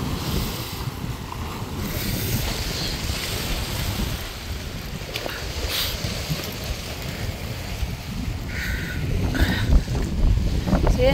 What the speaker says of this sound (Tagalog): Lang taas ng alon. Medyo wavy siya ngayon.